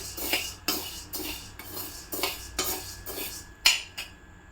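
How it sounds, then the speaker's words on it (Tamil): Urad dal being dry-roasted in a pan for idli podi, stirred with a metal spoon: a rapid series of sharp scraping clinks against the pan in a quick, fairly regular rhythm over a light rustling of the lentils. "இப்போ நீ உளுந்த வறுத்து முடி"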